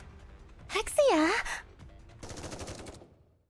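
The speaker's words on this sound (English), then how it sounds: "There are the sounds of gunshots as Exia collapses." A rapid burst of gunfire from the video game Goddess of Victory: NIKKE follows a voiced gasp or cry, with a vocal sound overlapping the start before the shots rattle on and fade.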